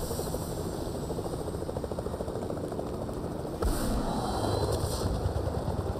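A helicopter flies in Fortnite with a constant, loud, close rotor-and-engine drone that thickens abruptly partway through and keeps going, with no voices over it.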